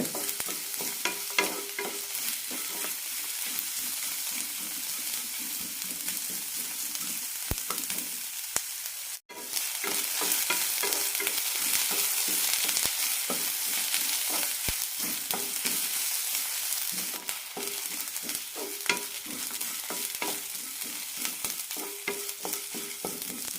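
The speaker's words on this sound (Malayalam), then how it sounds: "ഇതിലേക്ക് സവാള ഇടാം സവാള ട്രാൻസ്പാരൻ്റ് ആയാൽ മതി ചോക്കേണ്ട ആവശ്യമൊന്നുമില്ല" Sliced onion frying in hot oil in a pan for a ridge gourd chutney, a loud continuous sizzle with a spoon stirring and scraping at intervals, no one speaking.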